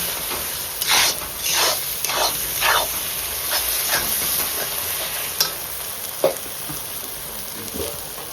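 Spice masala with coriander powder sizzles and hisses in a hot pan as it is stirred, with rhythmic scraping strokes over a steady frying hiss, for a Bengali duck meat curry.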